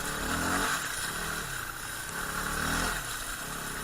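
A dirt bike rides a muddy trail, its engine droning steadily with gentle rises and falls in pitch as the rider works the throttle through sloppy ground, heard close and continuously with no talking.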